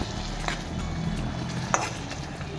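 Onions and bay leaves fry in a pan at a home kitchen, giving a soft, steady sizzle with a couple of light stirring scrapes and clicks, fairly quiet and close, with no voices.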